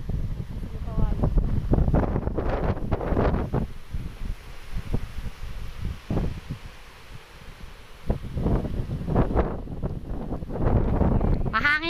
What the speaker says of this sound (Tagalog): Mahangin sir dito, ang sarap po ng hangin.